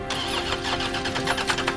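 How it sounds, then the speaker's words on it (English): A car engine cranks over and over without catching, a rapid rhythmic churning of the starter that stays loud and close throughout, with no speech. "Meanwhile, Judy Tafoya tries desperately to start her car, but the engine refuses to turn over."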